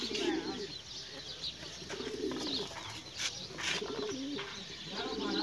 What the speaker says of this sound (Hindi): ऐ अपना कबूतर है वड्डा छापदार,